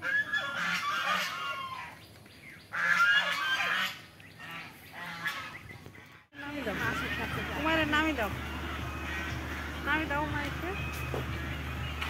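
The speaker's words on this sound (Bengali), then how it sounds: "অনেকগুলো হাঁস আমাদেরকে ওয়েলকামিং করলো।" A flock of ducks at Bhawal Resort in Gazipur calls loudly and repeatedly with honking quacks, in bursts with short pauses between them.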